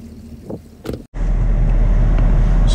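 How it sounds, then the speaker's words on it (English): A car on bald snow tires creeps up a snowy driveway in snow mode with traction control on. After a brief cut, a loud, steady, low engine and road rumble takes over, heavy with wind buffeting on the microphone. "I'm just gonna slowly pull up the driveway."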